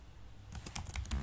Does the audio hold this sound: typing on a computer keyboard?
yes